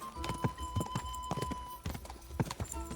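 Horse hooves clatter in a fast galloping clip-clop rhythm in Kingdom Come Deliverance 2, the repeated thuds close and steady over a faint background tone.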